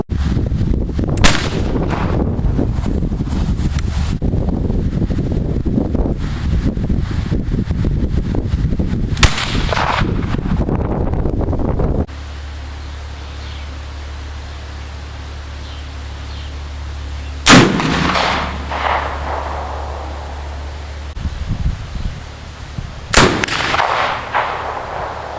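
Sharp, loud reports from a .54 caliber Connecticut Valley Arms percussion rifle with set trigger, three shots spaced several seconds apart, each ringing out and decaying over a steady outdoor background.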